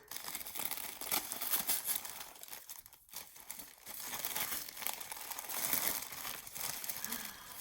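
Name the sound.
tearing tissue paper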